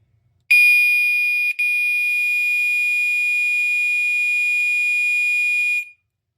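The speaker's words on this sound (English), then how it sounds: "So I'm gonna quickly show you a weird thing the Gentex Commander 3 sometimes does. It does a startup noise here." Gentex Commander 3 fire alarm powering up: a loud, steady high-pitched electronic tone that starts abruptly, drops out for a split second near the start, then holds for about five seconds before cutting off.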